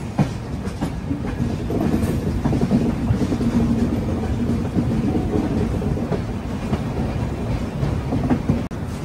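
A Hamsafar Express passenger train runs non-stop at speed between Jodhpur and Tiruchirappalli, with a continuous loud rumble of wheels on track and a steady clickety-clack rhythm heard from on board.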